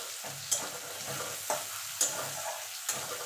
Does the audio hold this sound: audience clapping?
no